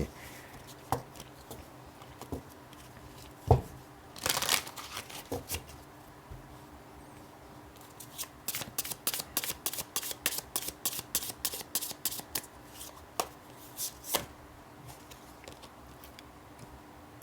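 Tarot cards are shuffled by hand during a card reading: soft scattered handling and rubbing, then a quick run of crisp riffle flutters near the middle, close and fairly quiet with no talking.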